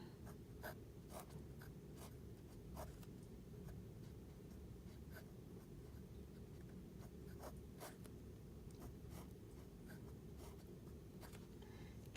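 Pen strokes scratching quickly on paper while writing the Chinese characters for "I love you" by hand, soft irregular scratches and taps over a steady low room hum, close and quiet, with no talking.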